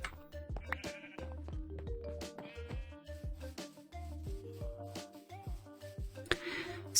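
Sheep bleating on a video game farm, repeated wavering bleats from several animals over a steady background music loop, with soft percussive knocks mixed in, moderately loud and close.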